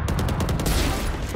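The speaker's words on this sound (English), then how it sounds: "Stop shooting so fast," Rapid bursts of gunfire from a mobile shooter video game, a fast rattling fusillade of shots played loud and close with no talking over it.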